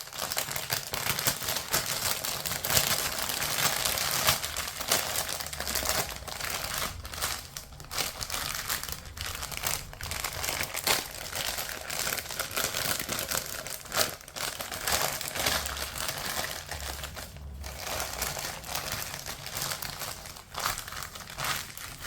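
A crisp packet being folded into an origami cup crinkles and crackles continuously up close, with loud, dense rustling throughout and no talk.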